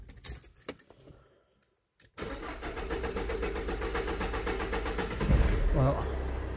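A diesel engine with a Delphi injection pump, contaminated with metal filings, starts after keys jingle and a pause, then settles into a steady, close idle while someone talks.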